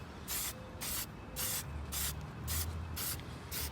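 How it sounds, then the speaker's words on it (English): Mohawk brass lacquer is sprayed from an aerosol can onto a brass grandfather clock weight in a series of short, even hissing bursts with brief pauses between them. "and then we'll come spray it."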